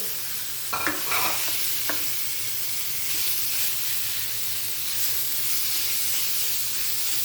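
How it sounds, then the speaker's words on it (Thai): Minced pork and garlic stir-fry in a hot pan with a steady loud sizzle, broken early by a few clattering stirs of the spatula. "กระเทียมค่ะผักให้หอม หมูสับหมูบดค่ะพี่น้องใส่สองอันเลย"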